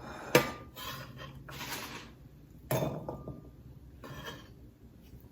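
Knife work on a cutting board while slicing and dicing vegetables for a shirazi salad outdoors on a windy winter day, with a few sharp knocks and clatters amid softer scraping chops, fairly close and without talking.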